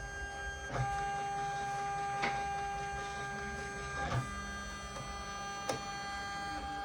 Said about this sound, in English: can see that the frame is moving and it has stopped